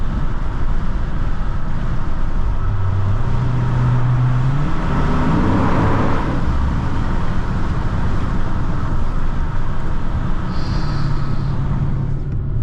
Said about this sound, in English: as you can see, man, the stock exhaust on the Scat Pack